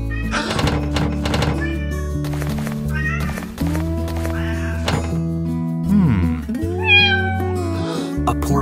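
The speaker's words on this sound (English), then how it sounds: "A poor kitten." A kitten in the Roblox Brookhaven video game meows repeatedly in cartoonish, pitched cries over a backdrop of game music, with a dull thunk partway through.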